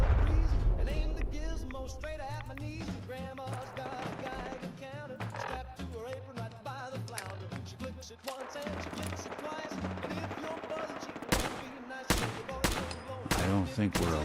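Gunfire and explosions in Fallout 4 during a fight in Jamaica Plain, rapid bursts of shots and sharp blasts, clustering more densely toward the end, heard over game music with some talking mixed in.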